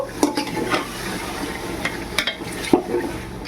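Marinated chicken for Kolkata-style biryani is stirred in a pot over high flame, with a steady sizzle and scraping, clinking spoon strokes at an irregular pace, close and clear.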